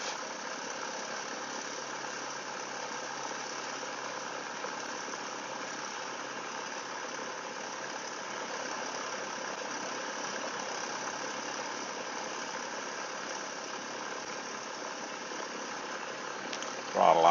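A Cessna 172 aircraft engine idling steadily while taxiing, a continuous even drone heard from inside the cabin, unbroken for about seventeen seconds.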